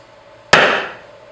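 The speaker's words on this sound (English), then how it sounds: "grab your hammer and chisel and go through each of the" A single sharp hammer blow strikes a chisel against a joint of a freshly cut part, one loud close crack with a short ringing tail.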